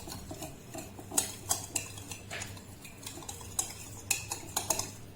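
Kachori dough being mixed by hand in a bowl to dissolve the salt, heard as soft stirring with scattered clinks and taps of utensils against the dish, fairly close and without talk.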